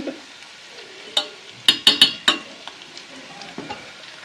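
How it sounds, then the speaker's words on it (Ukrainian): Vegetables frying in a pan for a Ukrainian cabbage soup, a steady sizzle broken by several sharp clinks of a utensil stirring against the pan, grouped mid-clip and then easing off, close and alone with no talk. "А ми підсмажуємо овочі."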